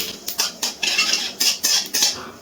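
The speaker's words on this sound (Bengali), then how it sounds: "ফোড়নটা একটু নাড়াচাড়া করে নিচ্ছি।" Dried red chilli and whole cumin seeds being stirred in hot mustard oil, a metal spoon scraping and clinking against the pan in quick repeated strokes over a light crackle, close and fairly loud, no talking.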